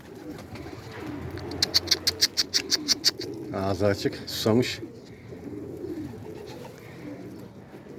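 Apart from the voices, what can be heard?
Arab dolapçı pigeons cooing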